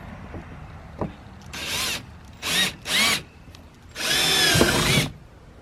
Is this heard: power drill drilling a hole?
yes